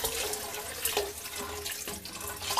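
Warm water poured from a tap into a soup pot while cooking macaroni soup, a steady close splashing and running flow lasting throughout with no talk.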